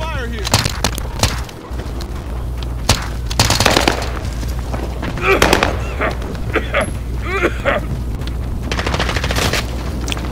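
Heavy automatic gunfire in the Call of Duty Warzone video game, with repeated loud bursts and single shots close by and scattered shots farther off, continuing throughout under game sounds and occasional voice chatter.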